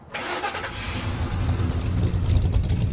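A classic V8 car engine roars and revs steadily, loud and close, with a deep rumbling low end that builds slightly toward the end.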